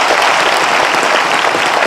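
A large audience applauds General Anil Chauhan, India's Chief of Defence Staff, with dense, loud, steady clapping that fills the whole stretch without a break.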